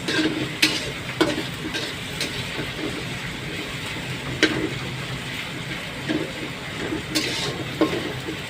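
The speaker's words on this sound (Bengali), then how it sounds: "পেঁয়াজ কষানো হচ্ছে মাছ ভোনা করা হবে কাতল মাছ" Onions being sautéed in a pan for katla fish curry, a steady sizzle with scattered stirring scrapes and clicks of a utensil against the pan, no voices.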